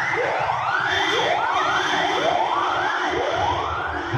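Loud, continuous wailing ambulance siren, sweeping up and down in a steady repeating cycle, close and alone with no talk over it.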